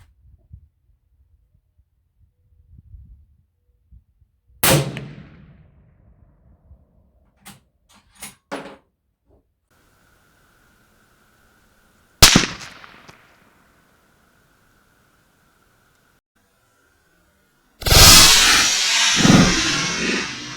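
Three sharp, loud .338 Lapua rifle reports, fired with 260-grain tungsten-core rounds at level 4 body armor from 100 yards, spaced several seconds apart with faint clicks between them. The last blast trails into a longer rumbling burst.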